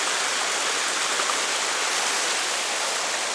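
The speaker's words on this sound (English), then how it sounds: "this is river Boyanska that goes down to create the Boyana waterfall" Boyanska river rushing down toward Boyana waterfall, a steady, loud broadband roar of flowing water filling the whole clip without pause.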